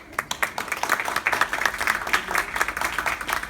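An audience at a book presentation claps for a guest; dense, steady applause of many hands, fairly loud and close, lasting the whole stretch with a faint murmur underneath.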